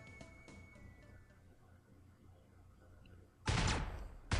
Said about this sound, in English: I love how there are explosions like all over the place